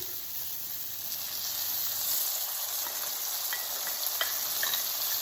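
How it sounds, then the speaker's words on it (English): Shrimp sizzling in a pan with a butter and garlic mixture, a continuous bright hiss that swells a little after the first two seconds, with faint light clinks, steady and close. "I am going to add my butter and garlic mixture to the shrimp"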